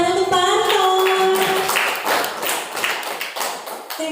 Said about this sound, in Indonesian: Beri tepuk tangan untuk Pak Anton.